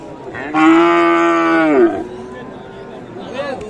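At a cattle market, a cow gives one loud, long, drawn-out moo close by, followed by quieter background murmur and a faint second call.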